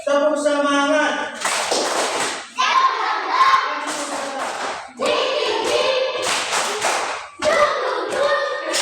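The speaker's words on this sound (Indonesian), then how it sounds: "Tepuk semangat." A class of children claps a rhythmic school spirit clap in a classroom, with sharp bursts of clapping in several rounds alternating with chanted and spoken voices.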